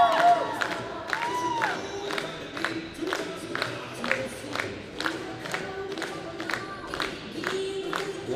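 A large crowd cheers and shouts steadily at a synchronised skating competition in a big ice rink, with whoops and scattered claps over a bright musical backdrop.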